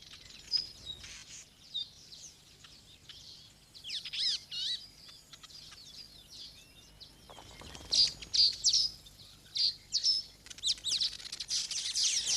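A young masked weaver calls while weaving its first nest from green grass, giving bright chirps and buzzy chatter that come in bursts, getting louder and denser in the second half, close by with no talk.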